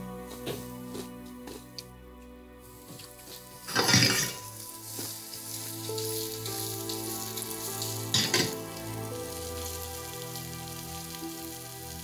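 Onions caramelizing in a pan for a burger topping give a steady, fairly quiet sizzle and crackle throughout, with a couple of brief louder bursts of stirring or spattering.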